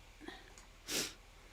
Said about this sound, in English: God, I gotta sneeze again.